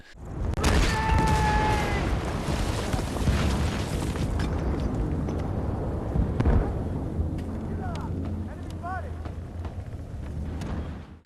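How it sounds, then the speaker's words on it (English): Gunshots and explosions from the World War II shooter Battlefield 1943 boom and burst continuously across the whole stretch, layered into a dense, loud battle din with no pause. "The sounds of gunshots and explosions are all around"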